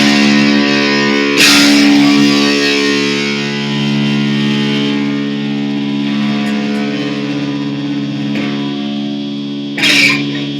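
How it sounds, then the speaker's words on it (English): Distorted electric guitar with a metal tone on a Gibson Les Paul Future Tribute, sustained chords ringing loud and heavy with bright pick attacks near the start and end, alone without talk. "Some distortion. See what it sounds like with metal tone."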